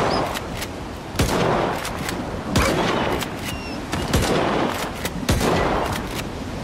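Gunfire in the shooter game S.T.A.L.K.E.R. 2: a loud, close run of sharp shots at fairly regular intervals, each with a brief echoing tail over a constant noisy background.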